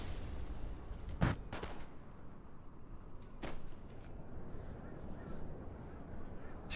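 Booming artillery fire in the Napoleonic battle game Napoleon Total War, one heavy blast near the start followed by a couple of fainter distant reports over a steady battlefield rumble.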